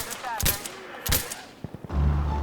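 Gunfire in the video game Insurgency Sandstorm: a few sharp shots and short bursts crack out over a rumbling battlefield bed, followed by a heavier low boom near the end.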